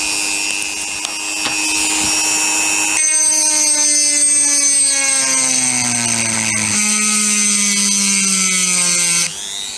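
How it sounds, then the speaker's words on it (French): Parkside PFBS 160 B2 precision drill grinder milling a smooth part: a loud, steady high-pitched motor whine with strong overtones that sinks gradually in pitch as the tool bogs down under pressure, then picks back up near the end. "Je fraise une partie lisse, vraiment pour voir si on est bien au niveau de la puissance de la machine"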